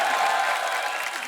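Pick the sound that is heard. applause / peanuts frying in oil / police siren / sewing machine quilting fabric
applause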